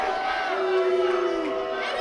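Wrestling crowd at a Maine indoor show chanting and cheering together, a dense sustained roar of many voices with rising tonal chant lines, steady and loud throughout.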